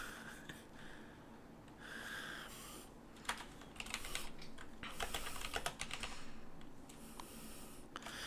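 Computer keyboard typing comes in quick bursts of close, crisp key clicks that run unevenly over several seconds, with faint breathy noise beneath and no talk.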